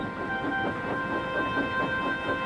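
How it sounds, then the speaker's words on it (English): A steam engine rolls past on the rails with a steady, close rumble and rhythmic clatter, loud and continuous, with no voices. "Percy waited on the siding until Henry had steamed by."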